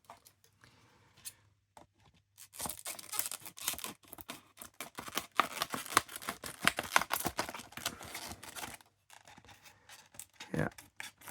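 Plastic packaging around a die-cast 2018 Jeep Wrangler Unlimited 4x4 model is cut open with a dense run of close, crisp snipping and crinkling, bracketed by quieter handling.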